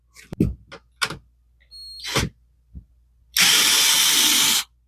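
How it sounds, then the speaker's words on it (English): Screws being driven back into a Canon PIXMA TS7720-series printer: clicks and plastic knocks come first, then a power screwdriver whirs steadily for about a second at close range. "And then you put the 2 screws back."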